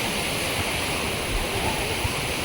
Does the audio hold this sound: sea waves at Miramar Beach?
yes